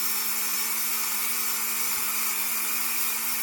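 A Dremel 4000 rotary tool with an orange polishing wheel buffs a sanded polymer clay pendant, giving a steady high-pitched whine that holds evenly throughout, close up and with no talking.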